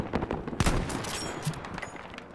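Gunfire from the World War II shooter game Battlefield 5: a rapid, dense fusillade of close, loud shots with bursts of automatic fire rattling continuously for a couple of seconds.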